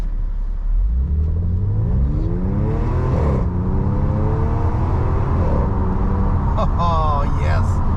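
Audi S4 with a gearbox mount insert, idling at a red light in manual mode, revs loudly in rising and falling sweeps, engine sound close and continuous throughout, with a faint bit of talk underneath.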